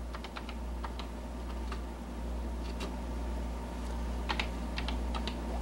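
A Color Computer keyboard is typed on in short irregular bursts of crisp clicks, close by, over a low steady hum, with no talking.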